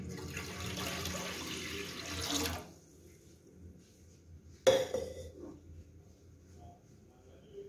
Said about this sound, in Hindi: इसके अंदर 1 लीटर पानी डालेंगे।